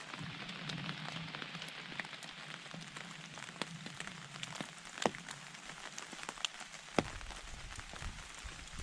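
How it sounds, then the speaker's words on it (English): Steady rain patters on surfaces around a wet campsite on a March trail thru-hike in cold winter weather, a constant close hiss with a few sharper drop or knock impacts standing out. "And I think it's going to rain all day today."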